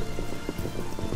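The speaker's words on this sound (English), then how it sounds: "Started to rain." Rain falls in the video game Xenoblade Chronicles 2: Torna, a dense, steady patter of drops on the ground, loud and continuous with no talk.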